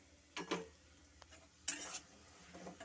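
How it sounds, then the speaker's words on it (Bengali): Atta flour being fried in ghee for carrot halwa: quiet, soft sizzling with a few brief bursts of spatula stirring and scraping against the pan, separated by calmer stretches. "এর মধ্যে দিয়ে দিচ্ছি এই আটাটাও আমি একটু এই ঘিয়ে ভেজে ভেজে নেব"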